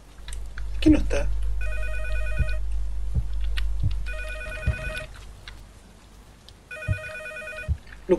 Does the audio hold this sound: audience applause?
no